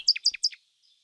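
A nightingale used as a sound effect in a storybook reading: three quick, bright chirps in a row, close and clear, followed by a faint trailing note and silence.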